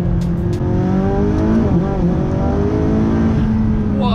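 A McLaren 570S tuned to 790 horsepower and fitted with an Armytrix exhaust accelerates hard, its loud, close engine note climbing steadily in pitch as the revs build.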